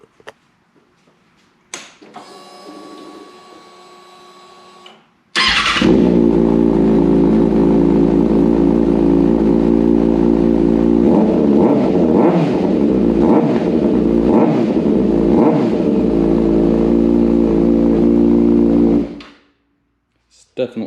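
A 2022 Kawasaki Ninja ZX6R fitted with an M4 slip-on exhaust cold-starts after a cranking whir, then settles into a loud, steady, close idle with a few throttle blips before cutting off.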